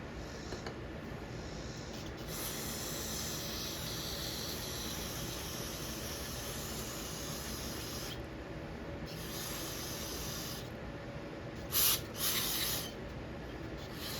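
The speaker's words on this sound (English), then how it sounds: "Spray it from the inside so it pushes it out through any holes that might be gunked up." Cleaner is sprayed through a Merc 650 outboard carburetor part to flush gunk from its holes, producing a long, steady aerosol hiss with brief interruptions and a couple of short, sharper bursts near the end.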